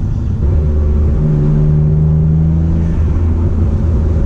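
Mitsubishi 3000GT VR4 engine heard from inside the car, a loud steady rumbling drone with a rising rev that holds briefly, consistent with rev matching while driving.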